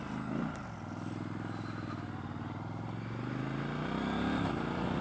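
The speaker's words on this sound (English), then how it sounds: "So that's the quick shifter, guys, and it's nice." A 2019 Triumph Scrambler 1200 XC twin-cylinder engine pulls steadily while riding, its revs dipping briefly as the Healtech quick shifter clicks through a gear, then climbing again amid wind noise.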